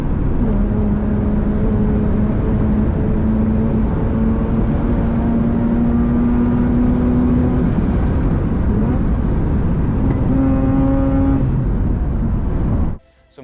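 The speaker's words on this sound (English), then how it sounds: "I can keep this car pedal flat to the floor over this crest" Mazda car held at full throttle over a bumpy crest, engine drone steady and loud with a rising harmonic tone throughout, ending in a brief thump near the end.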